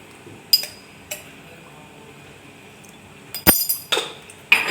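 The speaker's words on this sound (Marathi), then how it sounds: "आता हे मीठ छान असं मिक्स करून घ्यायचं आहे" Sharp metallic clinks and scrapes against a pot while salt is stirred into green pea rice, a few isolated strikes followed by a quicker cluster of scraping near the end, close by, no talking.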